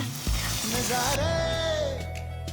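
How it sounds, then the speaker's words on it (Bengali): A mustard paste spice mix sizzles loudly in a pan while cooking boal fish curry, a continuous hissing fry with a brief scrape near the start. "তো মশলাটা আমি আরেকটু কষিয়ে নেবো"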